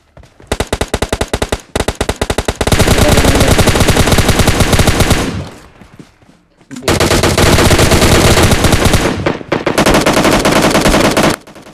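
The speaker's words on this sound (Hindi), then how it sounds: "अब दरअसल ना हम बस फायर के साउंड का पीछा कर रहे थे" Sustained automatic gunfire from a PUBG Lite match, loud and close, in rapid bursts that break off briefly around the middle before a second long volley resumes.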